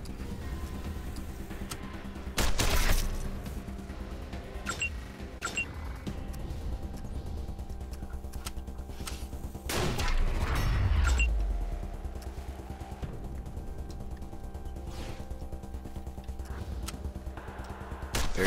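Gunshots in the post-apocalyptic role-playing game Wasteland 2: Director's Cut, a few loud single blasts spaced several seconds apart over a steady low game ambience.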